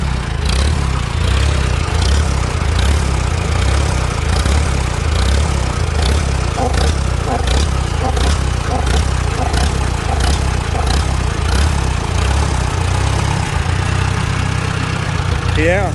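A small engine fitted with a Chinese carburetor runs rough and surges from running too rich, a steady close drone with rising and falling pulses, with someone talking over it at times.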